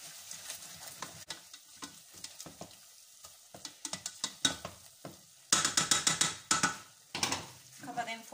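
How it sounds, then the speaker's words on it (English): Kidney beans, carrots and tomato paste are stirred in a pot with a spoon, giving repeated scraping, clinking strokes and light sizzling, with quick bursts of stirring later on. "Mix them properly."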